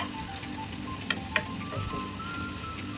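Hot oil tempering sizzles for Kolhapuri-style egg bhurji: a soft, steady frying hiss with two brief sharp clicks near the middle, no voices.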